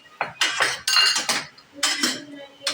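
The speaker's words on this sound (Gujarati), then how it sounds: "અને હવે આ બધું આપણે મિક્સ કરી દઈશું।" A spoon clinks and scrapes against a pan while stirring soft mushroom curry with salt, in several close, uneven bursts with short pauses between.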